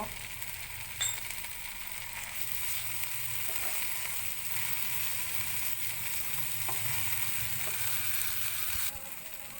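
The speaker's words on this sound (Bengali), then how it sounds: "এবার আমি রসুন বাটাটা দিয়ে 1 মিনিট মতো ভেজে নিব।" Ginger and garlic paste frying in a pan for a Bengali prawn malai curry, a steady close sizzle that runs unbroken throughout, with a few faint clicks from a utensil.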